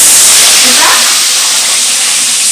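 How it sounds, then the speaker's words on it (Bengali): Chopped onion, capsicum and tomato hit hot oil tempered with cumin for chilli paneer, giving a loud, close, steady hiss of frying that barely changes across the whole moment. "টুকরো করা যে পেঁয়াজ, ক্যাপসিকাম, টমেটো, এটা আমি ভাজতে দিচ্ছি"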